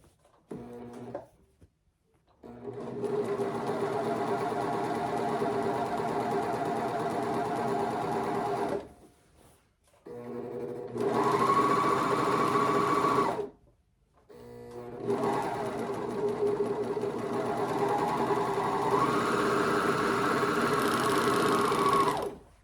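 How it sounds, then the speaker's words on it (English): A serger sewing machine runs in three long, loud, steady whirring bursts separated by brief pauses, its motor humming close by with slight changes in pitch as the speed shifts. "I use the serger so much"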